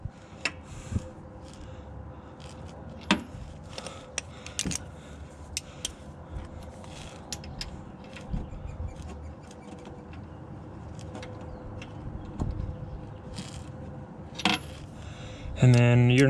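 Metal wrenches clink and rattle while being sorted through in a driveway, a string of sharp scattered taps and jangles, close and fairly quiet, ending in a louder clatter.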